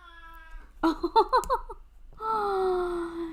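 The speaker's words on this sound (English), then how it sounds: "Can you guys still hear Paris? So sad. Aw, I know. sad kitty" A cat meows nearby in a drawn-out, plaintive cry, then lets out a quick series of chirping, warbling mews before one more long, whining meow.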